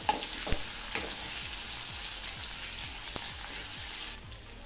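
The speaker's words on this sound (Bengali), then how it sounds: "পেঁয়াজ হালকা লাল করে ভেজে নেব।" Sliced onion fries in hot oil with tempered whole spices like cinnamon, cardamom and cloves, a steady close sizzle with occasional scraping stirs of a spatula against the pan and faint pops.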